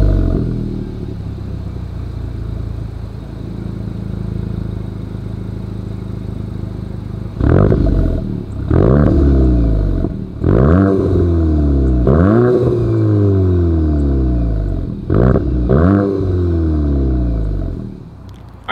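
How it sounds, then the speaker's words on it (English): A 2023 Volkswagen Golf GTI exhaust, idling steadily before a series of sharp revs rising and falling about once every second or two, loud and close with no voices. "As always, here is that exhaust clip."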